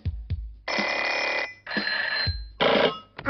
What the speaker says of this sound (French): It's a telephone.